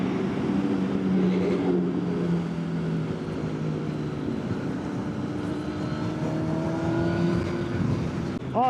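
A motorcycle's engine drones past on an open road, a steady rising and falling tone that holds for several seconds before fading, with a louder burst close by at the end.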